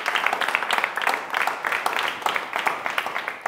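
Crowd applauding and cheering as a performer returns to the stage at a live singing show, dense continuous clapping at steady loudness throughout with no talk over it.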